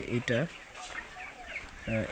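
Broiler chicken handled on a poultry farm, giving a few loud throaty clucks at the start and end with quieter sounds between.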